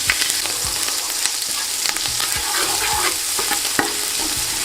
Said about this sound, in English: Now let's add in the garlic and the ginger.